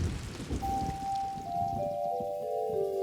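Steady soft rainfall patters in a Curious George cartoon scene on a rainy day in the country, a quiet continuous wash with a faint rising whistle-like tone drifting over it.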